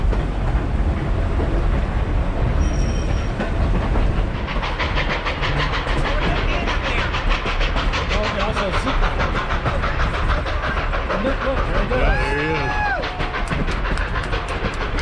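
A narrow gauge steam locomotive train on the Durango & Silverton line clanks and hisses nearby at a water stop, with wheels clicking over rails, metallic squeals and bursts of steam, and voices faintly in the background.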